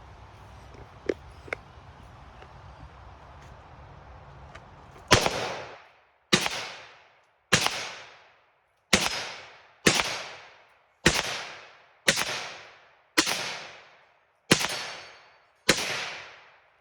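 A Palmetto State Armory AK556 rifle fires about ten loud, sharp shots at a steady, unhurried pace outdoors, each crack followed by a short echoing decay, after a quiet stretch with a few faint clicks.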